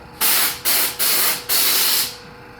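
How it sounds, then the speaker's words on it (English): Four sharp bursts of high-pressure air from a compressed air gun in a cell phone repair shop, each a loud hissing blast, the last one longest, with brief gaps between them. "And you've got high pressure air on demand"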